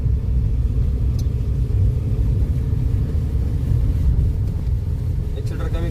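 Car engine accelerating steadily during a driving lesson, a continuous low rumble with road noise from inside the cabin, with an instructor talking over it throughout.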